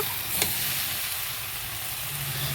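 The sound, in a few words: masala with onion being sautéed in a pan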